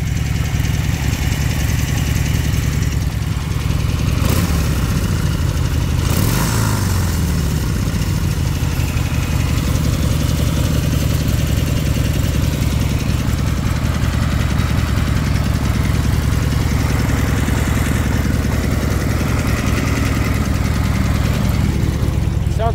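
An old Harley-Davidson Sportster 1200, after sitting in a barn for 22 years, idles steadily with a mild tick, a continuous close rumbling engine note with a faint regular ticking and no talking.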